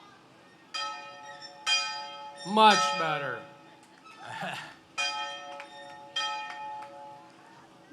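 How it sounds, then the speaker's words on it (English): A bell rung repeatedly at the 2017 Wauseon homecoming parade, several clear, ringing strikes spaced a second or so apart with lingering tones, interrupted by people talking and cheering nearby. "You have to ring the bell."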